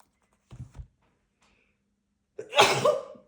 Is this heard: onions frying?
no